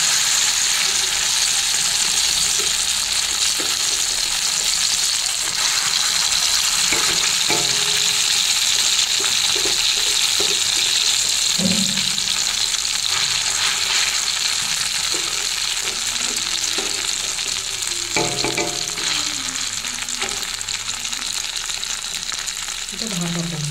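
Fish coated in poppy seed, green chilli, mustard oil and salt fries in a wok with a loud, continuous close sizzle and intermittent stirring scrapes.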